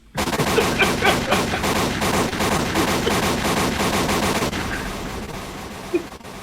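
Rapid bursts of gunfire, repeated shots in quick succession like automatic weapons, loud and sustained, tapering off near the end.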